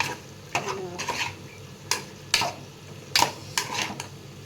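A spoon scrapes and clatters in a pot in irregular bursts while oil fries quietly underneath, with about eight sharp metallic stirring strokes over a soft sizzle.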